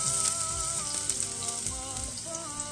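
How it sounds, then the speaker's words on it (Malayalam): Ginger and garlic fry in hot oil with a steady, close hiss and crackle, running beneath background music. "ഓയിൽ ചൂടായി. ഇനി ഇഞ്ചി വെളുത്തുള്ളി ഇടുക"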